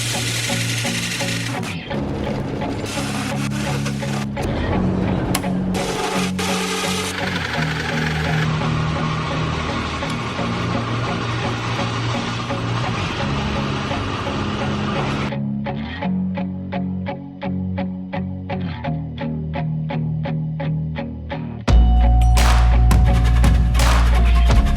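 A power cutting tool saws through the exhaust muffler of a 2023 Honda Type R, a loud buzzing, vibrating grind with steady tones that shift pitch in stages and a heavier burst near the end.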